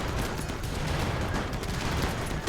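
Friendly fire in a Rimworld battle with zombies, a dense unbroken barrage of rapid gunshots crackling continuously at a steady loud level.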